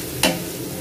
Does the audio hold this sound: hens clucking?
no